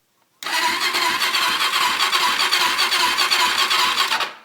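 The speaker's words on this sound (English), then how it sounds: "Everything in that engine so far sounds pretty decent." Honda 400ex ATV engine starts and runs loud and close for about four seconds with a fast, steady beat, then cuts off abruptly.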